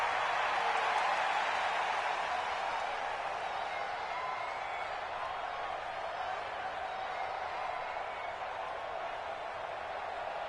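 Steady stadium crowd roar from a Madden football video game at Arrowhead, a dense continuous wash of cheering that holds at an even level throughout with no distinct voices standing out.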